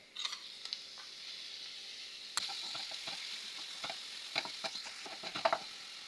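Minced meat frying in heated oil, a steady broadband sizzle with scattered pops and crackles, faint and continuous throughout with a sharp burst near the middle.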